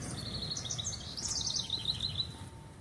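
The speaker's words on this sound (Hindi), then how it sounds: "एक कितनी खूबसूरत परिंदों की आवाज़ें आ रही हैं।" Birds sing and chirp continuously in a modern art museum's sculpture garden, with bright, overlapping calls at moderate distance over a steady outdoor hum.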